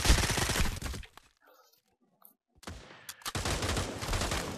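Gunfire in the VR shooter Pavlov VR: dense bursts of rapid shots, loud and close, break off into near silence with a few faint clicks, then resume as a sustained heavy volley.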